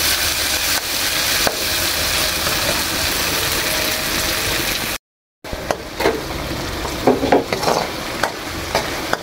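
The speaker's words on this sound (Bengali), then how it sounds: "মশলা দিয়ে মাছগুলো ভালোভাবে কষিয়ে নিয়েছি" Loitta fish sizzles steadily in a pan with ground cumin paste and dried chilli, as a spatula stirs and scrapes in irregular knocks; a brief silence breaks the frying partway through.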